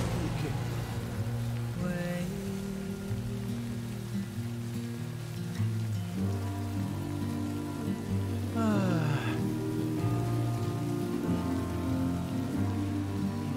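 Rain falling in the video game Death Stranding, a steady dense hiss that runs throughout beneath game music and tonal effects.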